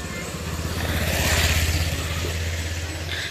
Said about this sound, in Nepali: बाइकहरू आइरहेको छ।